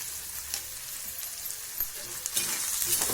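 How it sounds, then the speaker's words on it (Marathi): Tomatoes and onion with salt sautéing in a pan for a spicy black chickpea curry, with a steady close sizzle and scattered stirring scrapes growing slightly louder toward the end. "टमाटे आणि कांदा लवकर परतण्यासाठी यामध्ये मीठ टाकायचं"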